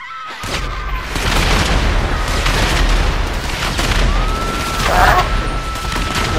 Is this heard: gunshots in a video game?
yes